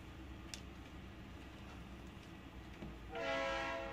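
Train wheels rumble steadily nearby and a few faint clicks come through, then near the end a loud horn blast swells in over the rolling noise.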